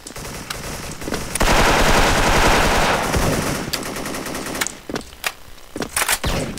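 Rapid M4 rifle fire from a first-person shooter game, a loud sustained automatic burst followed by shorter separated shots and bursts, with no talking.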